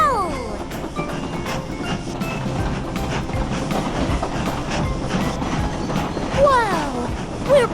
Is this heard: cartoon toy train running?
yes